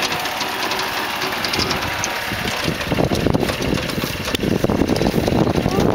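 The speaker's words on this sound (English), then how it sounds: "There goes Riley, driving all by himself." A golf cart engine idles and runs close by with a steady, buzzy mechanical drone that grows slightly louder and more throbbing partway through. No one speaks.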